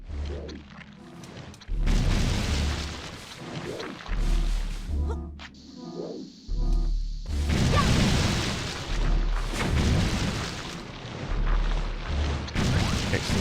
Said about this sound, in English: Okay, so the bomb doesn't hurt the tentacles.